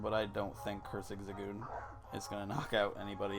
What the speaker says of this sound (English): if you heard that, that's my dog.